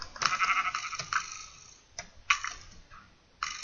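Minecraft sheep bleat in a battle game mode, with a few short, clear bleats spaced irregularly, loud and near, alongside light clicking, with no talking.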